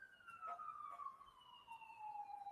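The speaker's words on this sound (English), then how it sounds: "There's about to be an ambulance passing." An ambulance siren passes in the distance, its wail sliding steadily downward in pitch as it goes by, faint over quiet background noise.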